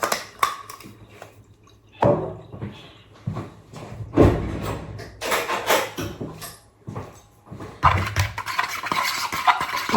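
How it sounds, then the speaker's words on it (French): A utensil stirs and scrapes through eggs with pepper and Viandox in a bowl. Irregular clinks and scrapes come at close range, some of them sharp, with no speech. "Tu mélanges et tu vas venir cuire tes œufs au micro-ondes"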